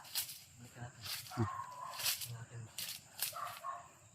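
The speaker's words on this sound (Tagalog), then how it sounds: "May aso dito banda." A dog barks faintly somewhere outdoors, a few short, distant yelps mixed with quiet nearby talking and rustling.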